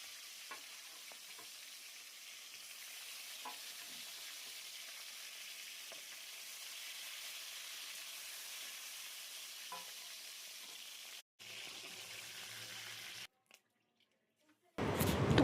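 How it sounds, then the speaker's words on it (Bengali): Hilsa fish heads fry in hot oil in a wok with a steady, fairly quiet broadband sizzle and occasional soft crackles, lasting most of the clip before a few brief dropouts and a louder burst at the end. "তারপরে আমি কড়াইতে তেল গরম করে মাছের মাথাগুলো, ইলিশ মাছের মাথাগুলোকে ভেজে নিচ্ছি।"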